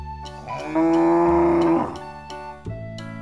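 A battery-powered toy calf lets out one loud, sustained electronic moo of about a second, set against a steady mechanical whir with a few clicks before and after.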